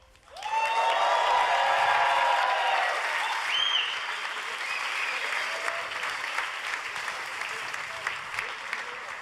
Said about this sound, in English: please, a big applause for the fastest man on the road